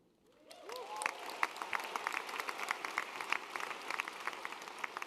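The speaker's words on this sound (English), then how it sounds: "clap again. I don't mind all the applause. I love the applause." An audience at a startup competition finals event breaks into applause that builds quickly and continues as steady, dense clapping.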